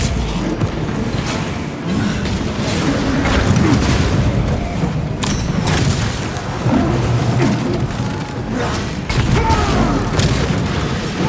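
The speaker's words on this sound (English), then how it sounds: "Grenade deployed." Grenade explosions and battle noise in the Space Marine game campaign, with heavy booming blasts over a dense, continuous rumble of combat at loud volume.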